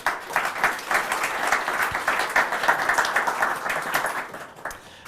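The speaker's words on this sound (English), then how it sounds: "Warm round of applause for our panel" A conference audience at Net Zero LIVE in London gives a panel on electric cars a warm round of applause, with steady, even clapping that holds for several seconds before easing slightly.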